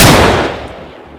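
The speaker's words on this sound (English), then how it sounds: "and shooting stuff destroys them" A single loud gunshot from a gun in a Minecraft-style blocky video game, with a sharp blast close up that fades into a rumbling tail over about a second.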